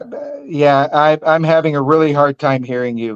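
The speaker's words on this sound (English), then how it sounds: "That's my dog." A dog barks and whines in a high, voiced, yelping run across the moment, close and loud, tangled with a person talking over a video call.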